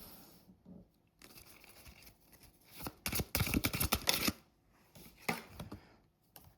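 Playing cards being shuffled by hand, a few bursts of quick riffling and crisp flicking, close and fairly quiet, with brief pauses between rounds.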